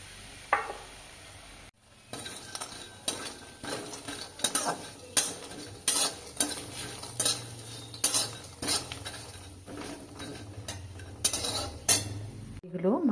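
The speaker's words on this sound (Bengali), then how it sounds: "তাই বড়িগুলো ভেজে নিলাম।" Lentil dumplings (bori) frying in oil in a wok, heard as a regular series of metal spatula scrapes and clinks against the pan over a faint sizzle, close and steady.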